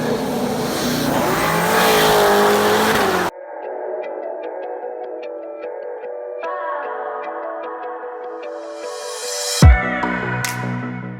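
Roll race between a Powerglide-equipped Chevrolet C7 Corvette and another car, loud engines roaring at full throttle and pulling through the revs, with a sharp burst and rising whine near the end and no talk.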